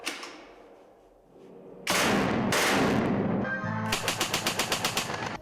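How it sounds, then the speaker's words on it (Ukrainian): Loud gunfire rings out nearby at a battle reenactment: a couple of heavy single shots followed by a rapid, evenly spaced burst of automatic fire. "О четвертій ранку, 22 червня, символічний постріл"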